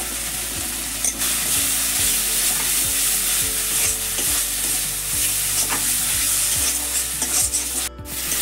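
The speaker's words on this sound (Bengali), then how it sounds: "মশলা কষানো হয়ে গেছে" Ground spice paste with turmeric sautéing in a pan, a loud continuous sizzle with regular spatula scrapes roughly every second, close and steady with no voices.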